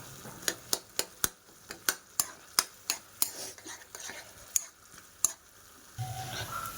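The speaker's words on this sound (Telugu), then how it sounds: "ఇప్పుడు నేను ఒకసారి నీట్గా మిక్స్ చేసేసుకుంటున్నాను" Steady rhythmic stirring of leftover idli upma with cashews in a pan, a run of sharp spoon clanks against the metal that thins out toward the end, close with a faint low sizzle underneath.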